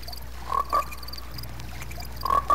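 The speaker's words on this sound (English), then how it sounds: "that's just the daddy frogs singing to the mama frogs" Frogs croak at night in a few short, distinct calls, two bursts early and two more near the end, fairly close over a steady background hum.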